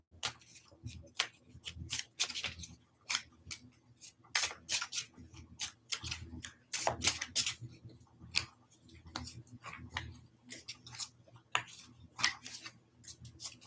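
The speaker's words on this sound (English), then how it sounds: "I'll stop shuffling when the energies compel me to." A deck of tarot cards is shuffled close up in a quiet room, giving a quick, irregular run of soft riffling clicks and taps that rise and fall over several seconds.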